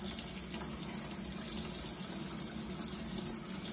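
Steady broadband rush of water running from a hose over chrome during detailing, continuous and fairly close with no talk.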